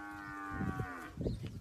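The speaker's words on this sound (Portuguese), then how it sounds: "É pra pirraçar, agora é o boi me berrando." A bull moos in one low, drawn-out bellow at moderate distance, followed by a couple of short, deeper grunting sounds near the end.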